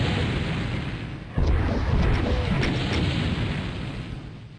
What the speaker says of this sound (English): I think that's our first rocket usage in this run